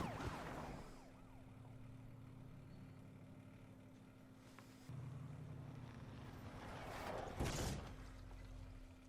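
An ambulance siren from the 2003 disaster movie Final Destination 2, heard as a steady tonal wail under a busy soundtrack of rumbling engine and road noise, with a loud burst near the end.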